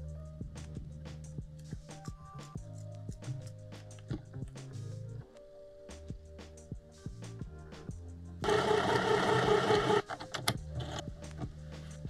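Home sewing machine stitching the ends of elastic together for a ballet dance costume waistband, heard as a run of short mechanical whirring bursts and a louder steady stretch of sewing near the end, close and with no talk.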